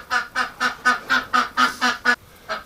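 Ducks quack in a steady run of about nine loud, close calls, evenly spaced with short gaps, then a brief pause before one more call at the end; no talking.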